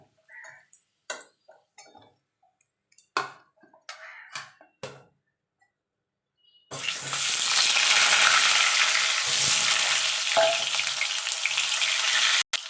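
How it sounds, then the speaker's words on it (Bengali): Potatoes for a vegetarian Bengali aloo dum drop into hot oil after a stretch of faint ticks and clicks, then a loud, dense, continuous sizzle and crackle fills the rest. "এইভাবে আমি বাকি যে আলুগুলো আছে সেগুলো আমি ভেজে নেব।"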